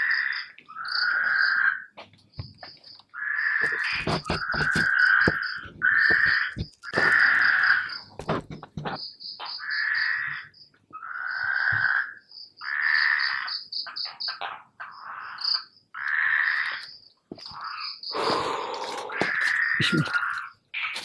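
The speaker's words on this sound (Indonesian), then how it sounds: "Suara kodok." Frogs croak in a rhythmic series of loud, close calls in a Bali forest near water, with a steady high insect-like trill and occasional bird chirps behind them.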